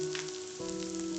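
Capsicum added to onions frying in a hot pan on a high flame: a steady, close sizzle with a soft crackle throughout and a slight shift midway as the peppers go in, no voices.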